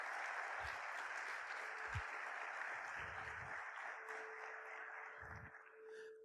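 A church congregation clapping in a steady, rolling round of applause that fades slightly toward the end, with a few low thumps mixed in.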